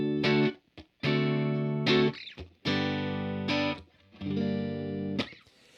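Electric guitar through a Vox AC10 amp with its spring reverb switched off, strumming bright surf-rock chords in several loud, sustained bursts separated by short gaps and quick muted strokes.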